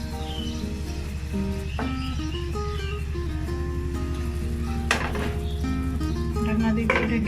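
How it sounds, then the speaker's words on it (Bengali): Patishapta pitha batter sizzles steadily in a hot frying pan, a continuous soft frying hiss with occasional faint clinks, under prominent background music. "ফ্রাই প্যানটা গরম হয়ে গেছে। এখন দিয়ে দিচ্ছি ব্যাটারটা।"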